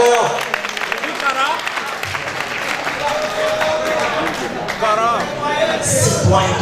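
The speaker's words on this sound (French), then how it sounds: "merci d'applaudir pour Timac le clairvoyant." Applause from a crowd at a national patriotic slam poetry championship in Togo, sustained clapping with some cheering, fairly loud and continuous throughout.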